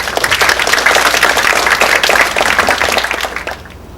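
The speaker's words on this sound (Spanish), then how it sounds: "Recibimos con un fuerte aplauso" Applause rises from a lecture audience welcoming a speaker at a World Water Day talk on water and energy, strong and dense for about three seconds before thinning into a few last claps and quiet.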